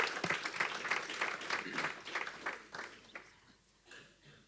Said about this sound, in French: je pense qu'on peut les applaudir avant de passer à la phase de questions